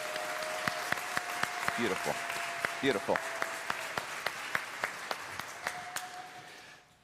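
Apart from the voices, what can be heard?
audience applause for junior choir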